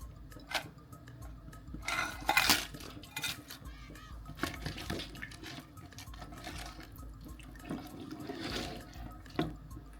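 Shrimp and blue crab dropped into a simmering New Orleans gumbo pot, giving watery splashes and clinks among steady kitchen background noise, with a brighter burst of splashing partway through.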